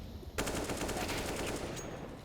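A sustained burst of rapid automatic gunfire in a Counter-Strike esports match, kicking in abruptly after a quiet start and rattling on steadily, loud and close, with faint background game sound.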